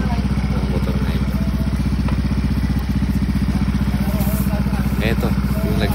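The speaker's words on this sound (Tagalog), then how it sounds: "eto na siya. Umaandar na siya. Mainit na yung makina." A warmed-up Yamaha Nmax V2 scooter with a stock engine and a 135cc racing injector mounting runs with a faulty injector. Its loud, close idle is steady and rumbling with a slightly uneven clatter, and a voice speaks faintly over it.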